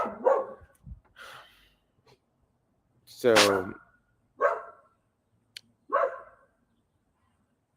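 A dog barks in separate loud, close bursts, some with a yipping, whining edge, with gaps of quiet between them and a few brief spoken words.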